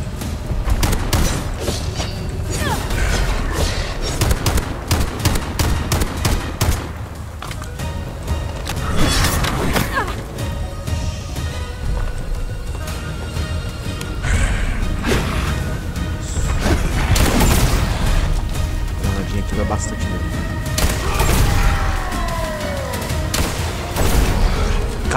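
Rapid bursts of gunfire in Bright Memory Infinite, sharp repeated shots and booms crackling almost nonstop, loud and dense throughout.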